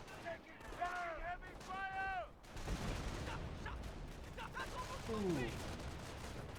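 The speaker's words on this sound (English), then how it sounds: "2 howitzers are now firing." Howitzer artillery booms and battle rumble in the World War II strategy game Company of Heroes. Brief blasts come over a dense, continuous din, with a voice speaking over them.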